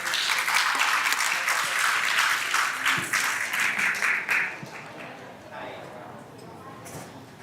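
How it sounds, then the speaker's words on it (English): An audience applauds a poetry recitation at a stage event, the clapping loud and sustained for several seconds before tapering off toward the end. "Please give him a big round of applause"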